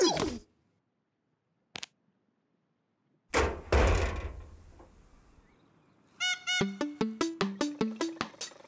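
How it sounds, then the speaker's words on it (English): Knocking at a door in the Twirlywoos children's programme: a loud burst of knocks or a slam near the middle, followed by a run of about a dozen evenly spaced, bright, rhythmic taps. "It's somebody at the door."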